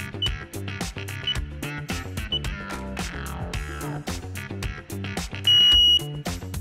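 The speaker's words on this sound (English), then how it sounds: "it has very loud sound alarm" An ELPO air and smoke sensor alarm gives one loud, steady, high-pitched beep near the end, cutting through the background music.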